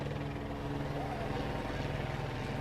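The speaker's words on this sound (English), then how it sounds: "And Ashley, we're looking at these helicopters overhead." Helicopters circling overhead at a search scene, a steady low rotor drone with faint beating running throughout, fairly distant and unbroken.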